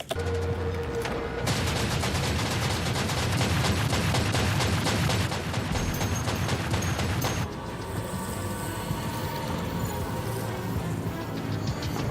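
Rapid, heavy bursts of machine-gun fire from a Space Marine heavy machine gun in the Warhammer 40k strategy game Dawn of War 2, loud and sustained amid explosive booms and battle noise, easing into quieter combat ambience.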